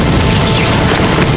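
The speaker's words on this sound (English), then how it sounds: "After a massive explosion," A missile explosion near a river as zombies cross toward a safe zone, one massive booming blast filling the whole moment, very loud and dense.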